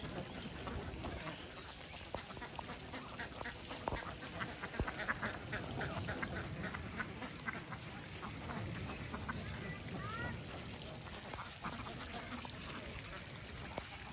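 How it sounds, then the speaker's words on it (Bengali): Ducks on a duck farm in Rajshahi quack steadily in a dense, continuous chorus under a constant background wash, with no single bird standing out and faint voices occasionally mixed in. "হাঁস"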